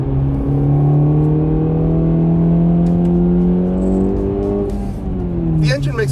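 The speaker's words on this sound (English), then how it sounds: "The engine makes a nice noise." A 2024 Acura Integra Type S engine accelerating steadily on a quiet road, loud and close, its pitch climbing smoothly through the gears with a brief shift near the end.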